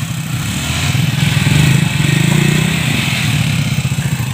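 A motorcycle engine chugs close and loud as the bike is pushed along a rough, bad road, its steady pulsing throb swelling and easing slightly with no speech.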